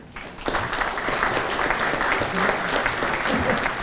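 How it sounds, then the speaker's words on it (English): After a brief quiet moment, a conference audience at a bridge engineering meeting bursts into sustained applause for an arriving speaker, a thick, even roar of many hands clapping that continues to the end. "Please give Mr. Dunn a warm round of applause as he comes up here"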